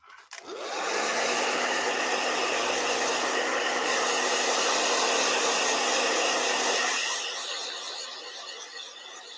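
Blow dryer switching on and running steadily close by for about six seconds, a loud broad whooshing roar with a constant motor hum, then winding down as it turns off.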